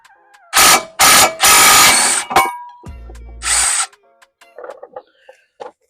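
An impact wrench loosens the lower caliper mounting bolt on the front brakes of a Jeep Patriot in loud, short hammering bursts, with a lower whir in between and faint metallic clinks afterward.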